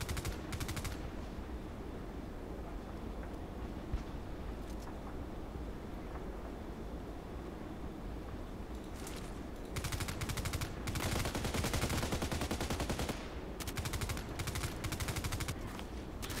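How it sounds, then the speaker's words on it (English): Gunfire crackles through a shooter video game match, with bursts of rapid automatic shots over a steady background rumble, growing denser and louder in the second half with repeated volleys. "Why are you shooting at me?"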